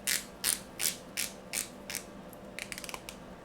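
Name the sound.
rotating ceramic watch bezel ratcheting, Raven Trekker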